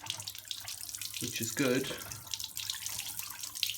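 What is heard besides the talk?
water draining out of Miele W1 washing machine filter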